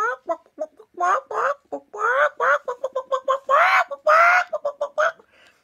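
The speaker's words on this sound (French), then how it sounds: "À 2 h du matin, la poule, elle a de la voix." A hen squawks loudly and repeatedly in a rapid series of harsh, rising cries, close by with no other sounds.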